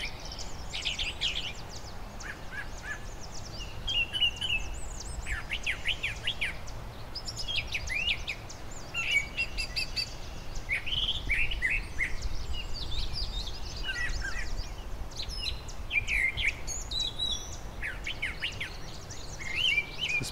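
Several birds sing in a parkland meadow, bursts of high chirps and trills repeating steadily across the whole stretch over a soft, constant outdoor background with faint insect buzz, no voices.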